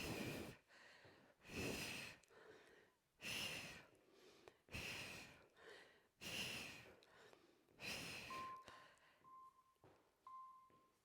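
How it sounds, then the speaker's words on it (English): A fitness instructor breathes heavily through a strength HIIT workout with ski conditioning. Loud, close gasping exhales and snorting breaths repeat roughly every second and a half, with no talking. "You heard my breathing right there."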